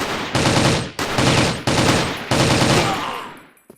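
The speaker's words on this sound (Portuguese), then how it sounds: "Tá atirando na favela, moleque, tu tá com a arma." Rapid automatic gunfire in the video game CrossFire, four sustained bursts of loud, dense shooting with brief gaps between them, fading out at the end.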